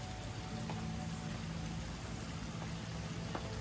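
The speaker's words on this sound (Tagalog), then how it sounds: "Hindi pa rin tumitigil ulan eh." Steady rain falls on a farm in Batangas, a soft continuous hiss with a low hum in the background and no talk.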